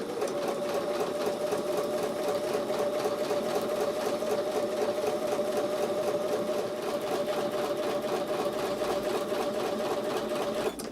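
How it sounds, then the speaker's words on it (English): A sewing machine runs without pause, stitching quilt pieces with a quarter-inch seam, its steady mechanical hum and rapid needle chatter close and even throughout. "I'm going to take these over to the sewing machine now and sew with a 1/4"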